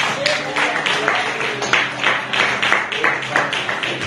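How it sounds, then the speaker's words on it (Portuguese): A church congregation claps along in rhythm, a steady run of bright, near hand claps that rises and falls over the full few seconds amid a lively crowd with no distinct talk. "Que as palmas sejam para Jesus"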